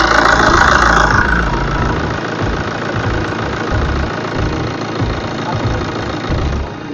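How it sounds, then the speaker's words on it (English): A BMW F25 with the N47 diesel engine idles smoothly after repair, a steady, loud, even low rumble with a continuous knock-like texture, running alone throughout without talk. "this is a diesel engine and it runs very smooth"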